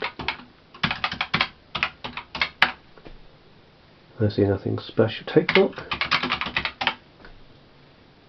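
Computer keyboard keys clatter in quick, irregular bursts as commands are typed into a text adventure game, with a person speaking between and over the typing.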